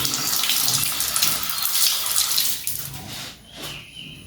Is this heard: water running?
yes